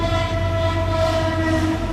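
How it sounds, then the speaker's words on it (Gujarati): A train runs past a closed level crossing in a Gujarat village, its horn sounding as a long, steady, loud blare over the continuous rumble of the wagons. "ઓલી ટ્રેન આવવાની છે, ફાટક બંધ થઈ ગઈ છે।"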